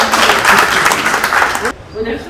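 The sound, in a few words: audience applause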